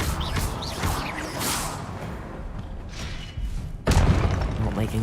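In Hogwarts Legacy, an Expelliarmus spell is cast, heard as whooshing swishes and booming thumps with a sharp impact burst near the end, over continuous game sound.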